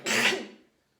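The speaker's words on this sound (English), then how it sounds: "Just a random sneeze." A single short sneeze from a person, a close, breathy burst lasting about half a second that fades quickly into silence.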